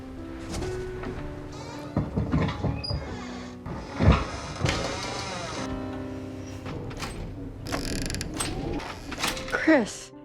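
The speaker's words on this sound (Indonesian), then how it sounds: "Anna mengecek ke arah pintu dan sempat lega karena ternyata hanya Chris yang iseng memainkan pintu tersebut." A door creaks and groans repeatedly in a horror film scene, long drawn-out creaks mixed with other eerie film sounds and faint voices.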